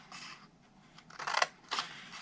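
Close scissor cuts through cardstock for a Stampin' Up! butterfly-themed square gift box, two or three brief crisp snips in a quiet room.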